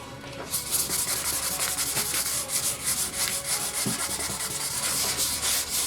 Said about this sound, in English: it's usually a good idea actually to sand all of this off too